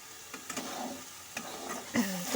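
Mustard spice paste with splashes of water being stir-fried in a pan over a low gas flame: soft sizzling broken by scattered spatula scrapes and taps, quiet and close, one louder scrape near the end.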